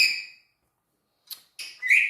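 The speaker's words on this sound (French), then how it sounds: "J'ai mon perroquet qui me casse la tête." Pet parrot giving short, sharp, high-pitched calls, one squawk, a pause of silence, then a quick burst of three shrill cries close by.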